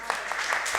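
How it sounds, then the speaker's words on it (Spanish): Brief burst of audience applause for speakers at a round-table panel on emergency radio, steady indoor clapping from a crowd heard close and moderately loud. "os voy a pedir un aplauso para nuestros ponentes"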